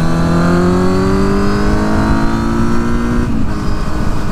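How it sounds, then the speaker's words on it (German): Four-cylinder quad engine heard while riding, a loud steady drone with rising pitch as it accelerates, then a brief dip near the end as the revs drop. "der Motorsound, nicht, der kommt halt eigentlich ganz geil rüber für euch"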